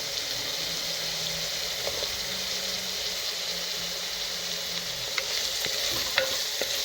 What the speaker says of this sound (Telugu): నూనె కాగింది. మిరపకాయలు, పచ్చిమిరపకాయలు సన్నగా కట్ చేసుకున్న మిరపకాయలు వేసేస్తున్నా.